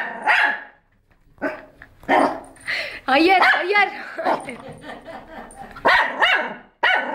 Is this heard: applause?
no